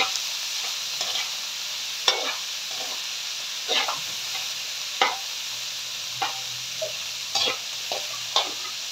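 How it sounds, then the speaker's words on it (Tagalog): Dinuguan being stirred as it fries in a pan, a steady close sizzle and hiss with repeated scraping strokes of the spoon against the pan at irregular intervals, and no talking. "halo-haloin lang natin hanggang sa pumula po siya"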